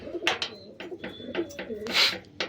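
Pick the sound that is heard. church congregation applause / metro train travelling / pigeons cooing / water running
pigeons cooing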